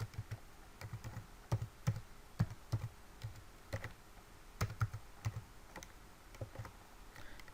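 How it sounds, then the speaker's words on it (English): Password being typed on a computer keyboard: close, irregular bursts of crisp key clicks with short pauses, no voices. "Let me just put my password there."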